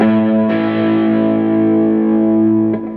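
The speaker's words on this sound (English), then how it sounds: "this is what a fifth sounds like" A two-note fifth played on a distorted electric guitar rings out loud and sustained, with the chord re-struck about half a second in and again near the end, holding steady with no talking.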